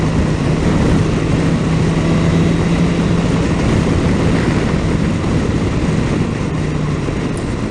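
A 2018 BMW S 1000 XR motorcycle cruises in sixth gear, giving a steady, loud engine drone with heavy wind rush throughout and no break in the sound.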